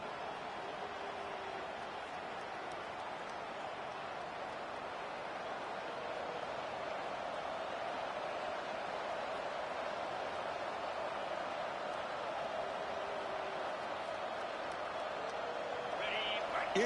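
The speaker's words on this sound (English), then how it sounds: "It's early, but this crowd is fired up. Listen to this noise here." A packed college football stadium crowd roars at Colorado versus Oregon, a dense, steady wash of cheering that holds loud throughout and swells slightly near the end, with no clear voices standing out.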